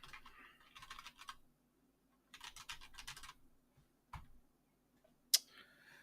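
A computer keyboard clatters in quick bursts of keystrokes, close and soft, separated by short pauses, followed by a single sharp click.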